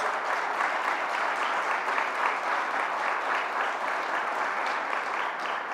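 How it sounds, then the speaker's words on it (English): A crowd at a governor's announcement claps in steady, sustained applause that continues evenly throughout, with no voices standing out. "Let's give them a round of applause."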